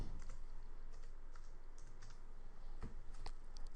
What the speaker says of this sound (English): I'll type in my name